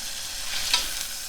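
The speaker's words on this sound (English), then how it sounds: "You can hear it sizzling away." Food frying and sizzling in a pan, a steady hiss with a slight swell midway, close and alone.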